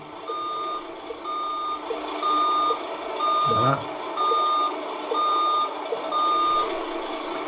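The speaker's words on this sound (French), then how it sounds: "toute la partie des feux de recul, donc l'alarme de recul." A Tamiya Mercedes-Benz 4151 RC truck sound module sounds its reversing alarm, a steady series of about seven evenly spaced electronic beeps, clear and close, with one brief spoken word midway.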